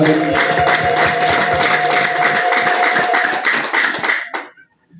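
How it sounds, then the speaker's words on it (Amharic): Church congregation applauding during a pastor's ordination service, a dense wash of clapping hands that fills the room steadily for about four seconds, then fades out into silence. "አጨብጭቡ ለጌታ ክብር።"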